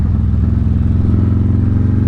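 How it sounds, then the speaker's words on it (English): A motorcycle engine braking on a curvy rural Tennessee backroad gives a loud, close, steady low rumble with a rapid pulsing throb and no talking. "Let the engine do some engine braking."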